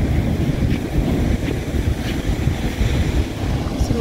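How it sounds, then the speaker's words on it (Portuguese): Rough, violent sea waves crash on a shore in a continuous loud roar, with heavy wind buffeting the microphone and no talking. "E olha o mar como é que tá batendo."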